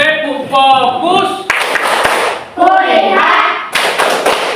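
A classroom doing the 'tepuk fokus' ice-breaker, several bursts of group hand-clapping in patterned rhythms alternating with chanted voices, fairly close and loud.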